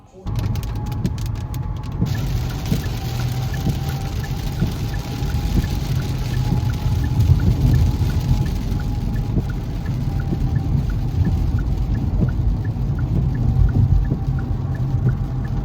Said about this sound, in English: Getting these sheets of rain.